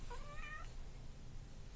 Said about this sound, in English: Here's a kitty. Come here, kitty.